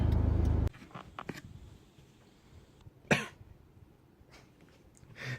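A single sharp cough, close by, after a brief burst of music cuts off; quiet rustling and faint movement surround it.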